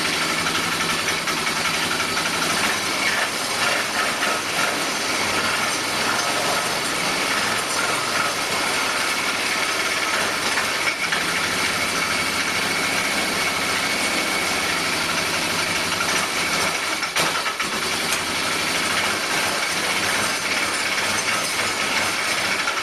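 A Polaris engine with a rejetted carburetor runs steadily for over twenty seconds, a constant, even mechanical drone indoors with no clear revving.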